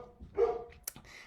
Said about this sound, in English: My dog's going crazy downstairs.